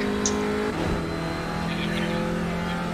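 Race car engine in a sim racing game at Donington Park, a steady loud drone with a gear-like pitch shift early on, then a sustained engine tone with faint tire noise.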